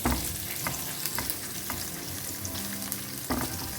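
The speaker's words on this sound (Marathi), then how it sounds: "आता मातशें सॉटे करूया." Chopped garlic sautéing in oil in a pan for Goan prawn balchao, giving a steady close sizzle with scattered stirring scrapes and no talking.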